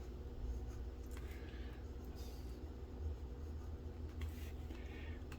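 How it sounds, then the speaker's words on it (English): A Visconti Opera Elements fountain pen with a medium nib writes on paper, giving soft, faint scratchy strokes in short bursts over a steady low background hum. "to do the writing sample, this is a medium nib"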